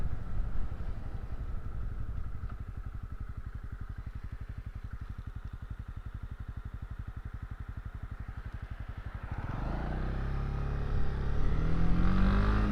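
A small-displacement motorcycle ridden on the road, its engine a rapid even pulsing thrum that rises near the end as the rider accelerates, with wind rushing across the microphone, loud and close, no talking.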